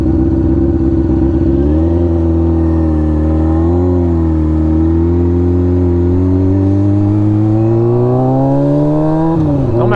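A BMW car accelerates away, its engine note climbing steadily in pitch through the gears over about ten seconds, loud and close with no talking.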